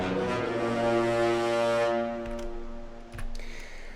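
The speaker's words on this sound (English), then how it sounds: "it's this big brass theme that comes in the French horns" Orchestral brass theme voiced on French horns in a MIDI orchestration, sustained layered tones holding steady and loud, then cutting off into a quieter tail with a low accent near the end.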